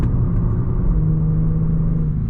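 A Genesis G70 3.3T AWD sedan's engine and exhaust pull through the mid-range around 2,800 to 3,300 rpm with a steady, deep rumble that holds loud and even.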